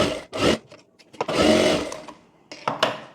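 An electric sewing machine stitches the folded hem of a boat-neck princess-cut blouse in short, loud bursts of whirring, with brief pauses between runs and the longest run in the middle.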